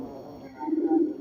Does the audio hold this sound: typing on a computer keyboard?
no